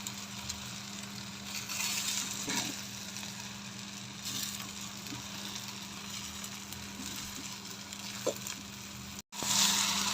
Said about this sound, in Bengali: আমার চাউলটা চাউল ডাল প্রায় ভাজা হয়ে গেছে